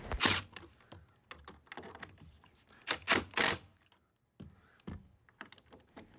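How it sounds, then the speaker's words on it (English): Screws are driven to fix a pipe elbow in place for a toilet water supply line, coming as several bursts of close, clicky mechanical rasping with brief pauses between them. "I'll raise my elbow up to 10 inches and screw it into place with a couple of screws"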